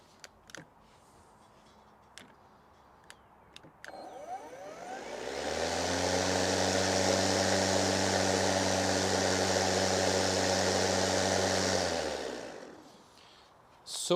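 An EGO LM2114 electric lawn mower spins up after a few light clicks, then runs with a steady, fairly quiet hum and airy whoosh for several seconds before winding down to near silence, with no talking.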